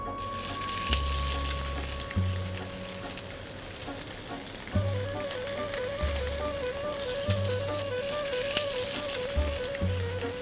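Lobster sears steadily in olive oil with a garlic clove, giving a close, continuous sizzle and crackle with occasional light stirring knocks and background kitchen music.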